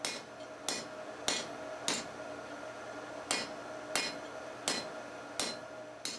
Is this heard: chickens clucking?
no